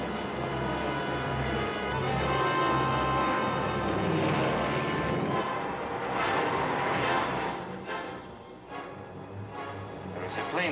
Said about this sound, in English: There's a plane coming this way.